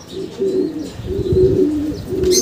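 Soft, low racing pigeon coos repeat in a steady rhythm, fairly close, with a faint chirp near the end.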